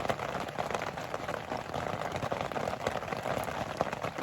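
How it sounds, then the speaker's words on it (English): Heavy rain drums on a camping tent in a dense, continuous roar of close drops that stays loud and unbroken throughout. "it's raining quite hard now, as you can hear"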